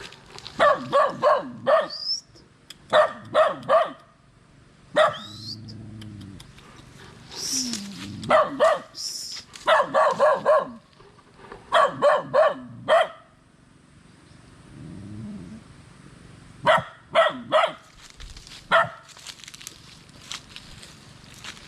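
Several dogs and puppies bark in short bursts and clusters, close and fairly loud, with quiet gaps between, light footsteps, and a person speaking softly here and there.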